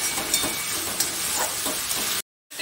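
Mutton going into hot oil with cooked-down spices, a loud dense sizzle with a few soft knocks, cut off abruptly near the end.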